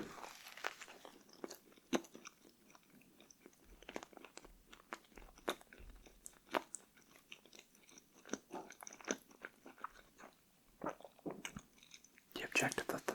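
Close, crisp crunching and chewing of take-out food in an ASMR eating session, irregular bites and wet mouth sounds continuing steadily with faint whispering underneath.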